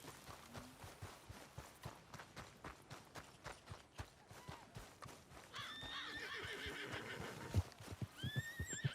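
A horse in the video game Red Dead Redemption 2 trots with steady clip-clopping hooves, then lets out a loud, drawn-out whinny partway through, with more hoofbeats after.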